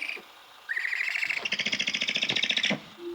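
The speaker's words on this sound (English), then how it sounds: "We're now going to play for you the sound of a great horned owl." A recording of a great horned owl is played back: a rising whistled note, then a run of loud, rapid pulsing calls that stop abruptly, with no talk over them.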